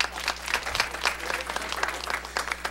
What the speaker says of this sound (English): And a round of applause for you.